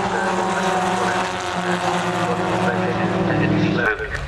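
Formula Ford 1600 race cars at Castle Combe circuit roar past steadily as they finish their race, a loud continuous engine drone that fades sharply near the end, with a commentator's voice underneath.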